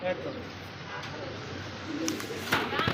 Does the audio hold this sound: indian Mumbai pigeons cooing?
yes